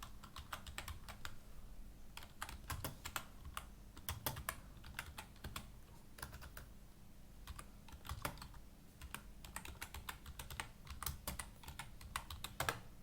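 Fingers type on a computer keyboard in quick, uneven runs of keystrokes with brief pauses, fairly quiet and close, with no voices.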